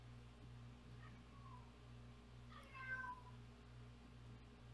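A house cat meows once or twice, fairly faint, over a steady low electrical hum in a room during a livestream.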